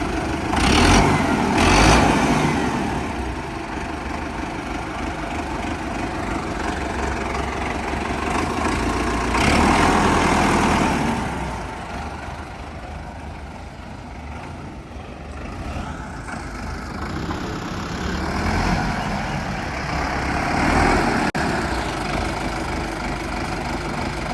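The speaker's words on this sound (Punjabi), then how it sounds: "ਜੱਗੂ ਸਟਾਰਟ ਕਰ ਦਈਏ ਕਰ ਲੈ ਕਰ ਲੈ ਆਵਾਜ਼ ਚੈੱਕ ਕਰਿਓ ਬਾਈ" A Sonalika 750 tractor engine idles close by with a steady diesel rumble, swelling in intensity a few times.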